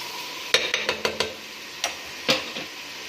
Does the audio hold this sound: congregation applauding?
no